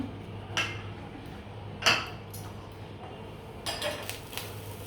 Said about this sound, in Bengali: তো আমি ঢাকনাটা উঠিয়ে নিচ্ছি, পিঠাগুলো হয়ে গেছে